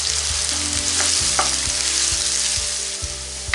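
Sliced onions frying to golden brown in oil in a pan, a loud continuous sizzle broken by repeated stirring clicks and scrapes, no one speaking.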